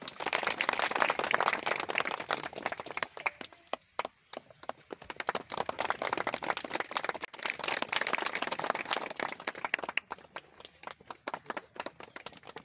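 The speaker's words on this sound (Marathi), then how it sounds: "जोरदार टाळ्या वाजवा." An audience claps at a disability day event, a loud sustained round of applause from many hands, briefly dipping before swelling again.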